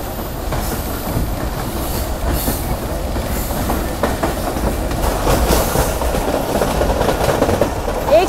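A Pakistan Railway passenger train running on its tracks between Panja Sahib and Nankana Sahib, with a loud, continuous rumble and rhythmic clickety-clack of wheels heard from on board, with no talking.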